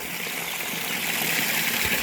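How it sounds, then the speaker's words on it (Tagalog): Strong, steady rush of water streaming from a shower fed by a pressure tank and water pump, continuous and fairly loud, with no talking over it. "Kusog na kayong tubig, no?"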